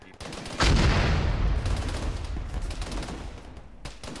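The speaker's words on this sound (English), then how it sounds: "Those sound like big guns. There is the active 72 and D30." Heavy gunfire in a military video game featuring a T-72 tank and a D-30 howitzer: a loud, booming shot followed by a long, rumbling roll of continuous fire and echoes.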